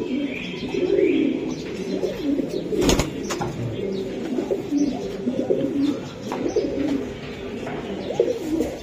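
Green-necked Giribaz pigeons, a high-flying racing breed, coo steadily in a dense, overlapping chorus with soft chirps and an occasional wing flutter, close by throughout.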